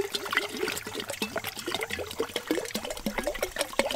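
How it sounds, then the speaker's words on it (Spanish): About one litre of water pours into a small jug, a soft, steady trickle and gurgle with bubbly splashes running through the whole stretch, quiet and close, with no voices. "Vamos a agregar lo que es 1 litro de agua en esta jarrita."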